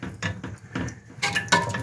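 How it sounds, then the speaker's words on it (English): A metal lid is set down onto a cooking pot of braised pork belly stewing in water, giving a few clanking, clattering knocks close by with no talk. "Now we close the lid of the pot."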